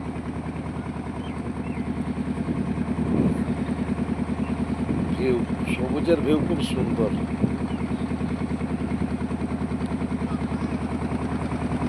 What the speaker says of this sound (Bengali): ওই একটা নৌকা চলে আসছে